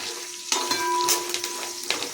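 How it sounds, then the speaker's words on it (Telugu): Garlic frying in a pan with curry leaves for village-style chicken pulao gives a light sizzle, broken by a few sharp clinks and scrapes from a spoon in the vessel. "వెల్లుల్లి కొంచెం ఫ్రై అయిన తర్వాత"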